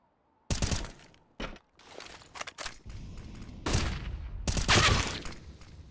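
Rapid bursts of gunfire from a Counter-Strike match between forZe and Spirit Academy in the ESL Challenger League, loud repeated volleys with sharp cracks and short pauses between them, dense and close.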